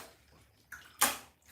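Warm water splashes over hair being rinsed in a bathtub, a small splash and then a louder, brief gush that fades away, with no talking.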